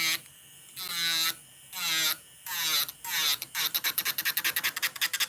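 An electric nail drill files gel nails at around 9,000 RPM, giving loud whining buzzes in four long passes and then a rapid run of short, choppy strokes, close up with no talking.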